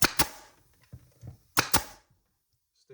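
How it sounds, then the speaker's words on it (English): A staple gun fires staples through canoe seat fabric on an Old Town Pathfinder Royalex canoe, giving two pairs of sharp, close snapping clacks with light handling rustles between them. "grab a staple gun,"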